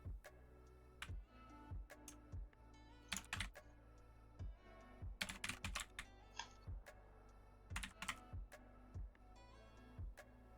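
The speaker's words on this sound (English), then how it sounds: "If you ever hear me typing," Rapid clattering keystrokes on a loud computer keyboard during a League of Legends coaching session, coming in irregular bursts and pauses with no talking.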